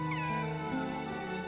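A cartoon cat in the video game Kingdom Hearts 2 gives one drawn-out, tonal meow, close and clear over the game's steady background music.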